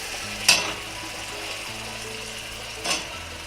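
Cauliflower and potato go into hot, cooked masala in an iron kadhai, with two brief sharp sizzling bursts over a low continuous background hiss.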